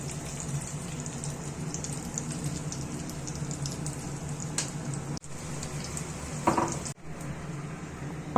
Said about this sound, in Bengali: এবার ডিমে ডিপ করে এটি তেলের মধ্যে ভাজতে দিয়ে দেবো।